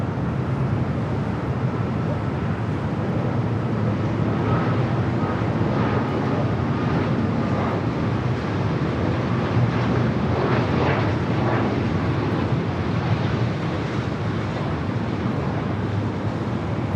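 Hawaiian airliner on short final to runway 24 right at LAX, a steady broadband roar of jet engines and rushing air holding loud and constant throughout, blended with wind noise, with no other distinct sounds standing out.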